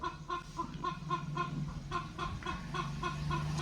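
Two multicoloured laying hens cluck repeatedly in short, rhythmic bursts close by, with a low background hum and no talking.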